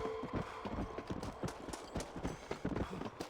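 Rapid horse hooves clip-clop in a steady trotting rhythm in Red Dead Redemption: Undead Nightmare, close and clear against a dense background hiss.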